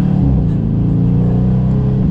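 A 2021 Dodge Charger Scat Pack V8 rumbles loud and close while driving on the road, a deep steady throbbing exhaust note with a low pulsing beat throughout.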